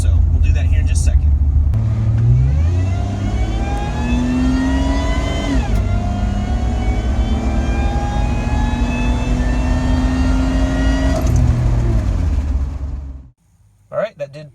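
A supercharged 2003 Honda Pilot with a Walbro fuel pump accelerates hard at full throttle uphill, its engine roaring loud and close while the pitch climbs through rising gear pulls before dropping off abruptly at the end.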